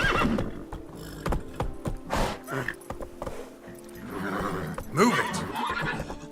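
A horse in The Witcher 3: Blood and Wine whinnies loudly, with steady clip-clop hoofbeats and scattered game sound effects, close and prominent, with a short bit of speech.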